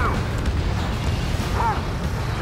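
Destroyed target blowing up in Ace Combat 7 during a pipeline destruction mission, a dense continuous roaring blast with heavy low rumble filling the whole moment, steady and loud with no clear onset.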